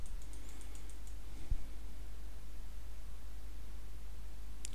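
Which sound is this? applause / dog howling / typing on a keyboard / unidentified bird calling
typing on a keyboard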